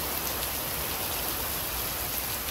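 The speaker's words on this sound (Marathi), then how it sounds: "आम्हाला पाऊस लागलाय बघा" Rain pours at the Matheran hill station, a steady, dense hiss of drops with no breaks and no voices.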